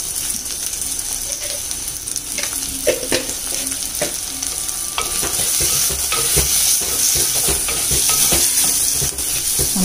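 Onions sizzle steadily in a pan with masala powder for a garlic kulambu, close and continuous, with scattered clicks and scrapes from stirring and no voices.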